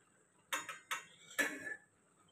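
A utensil stirs coriander into curry in a cooking pot, making four soft scraping clinks against the metal, the last one longest, in an otherwise quiet kitchen.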